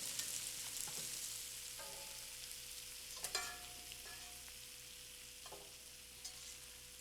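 Salmon fillets crusted with smoked salmon searing in a frying pan, a quiet continuous sizzle with a few faint clinks and taps of utensils, no voices.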